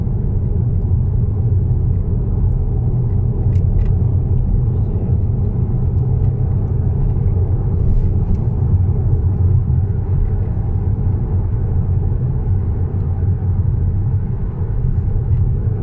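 Car driving along a road, heard from inside as a steady, loud low rumble of engine and tyre noise that continues unbroken for the whole stretch.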